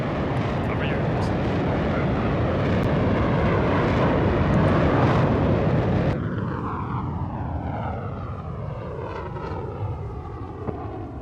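An RAF Eurofighter Typhoon FGR4 jet roars past in a display flypast at an air show, a loud sweeping rumble that peaks and then fades with a whooshing, phasing tail as it recedes.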